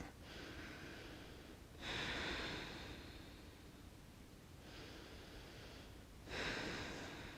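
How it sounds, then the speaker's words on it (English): Slow, calm breaths during a yoga session for anxiety, two long airy breaths each rising and fading in a steady rhythm, close and soft with no talking. "Listen to the calming sound of your own breath"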